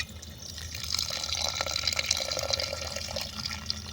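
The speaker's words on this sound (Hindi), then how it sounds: "अब इसमें थोड़ा सा पानी ऐड कर देंगे।" Water poured into a pot of chicken curry with softened tomatoes, cooked outdoors at night in a forest; a steady, close splashing pour runs throughout.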